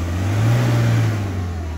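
A car stuck in the ground revs its engine with a steady low drone that swells briefly in the middle, straining without changing pitch much.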